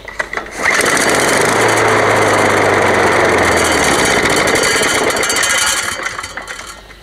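A used Husqvarna Royal 48S lawn mower's engine starts on test and runs steadily and loudly at close range, holding a constant roar for about five seconds before easing down.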